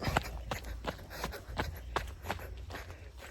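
Quick, evenly spaced footsteps of someone running, about three strides a second, close by with a muffled outdoor background.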